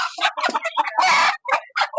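A hen clucks and squawks in quick, loud bursts close by, with one longer raspy call midway. The bird is a laying hen offered for sale at a bird market in North Karachi.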